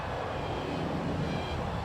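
A small drone flies nearby with a steady, even whirring drone. Constant broadband engine-like noise fills the short stretch at moderate loudness, alone without talk.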